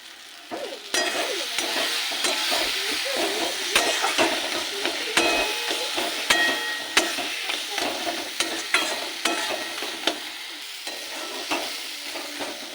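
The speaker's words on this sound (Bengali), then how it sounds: "আর এইটাকে ভালো করে ভেজে নেব" Stuffed eggplant filling fries in oil in a pan, a close, loud sizzle broken by frequent scraping strokes and clicks of a spatula stirring it, with no one speaking.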